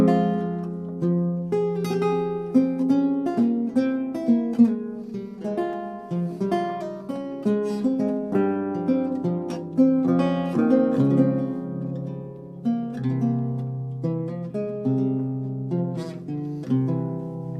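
Charles Mouton's allemande plays as a solo plucked piece in a lilting gigue rhythm, its notes grouped in threes, with clear ringing chords and a steady dance-like pulse throughout.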